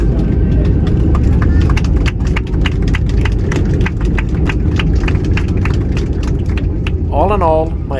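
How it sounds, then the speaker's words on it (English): Passengers aboard an Aegean Airlines A320neo clap together in the cabin after landing in Munich. The dense, continuous applause is close and loud throughout, and a voice is heard briefly near the end. "the passengers giving a big hand to the flight deck"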